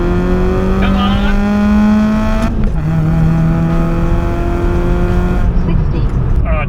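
A car engine revving hard up to the rev limiter, sustained loud engine tones with distinct drops as the limiter cuts in, close and dominant.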